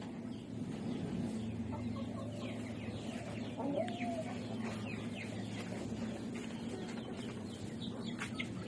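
Large Brahma chickens on a poultry farm cluck steadily and close by, with overlapping calls from several birds over a constant low barnyard hum and no speech.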